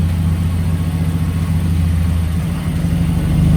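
A 2007 Mazdaspeed 6 engine running steadily after being cranked, a loud close idle with a constant low droning hum and no talk.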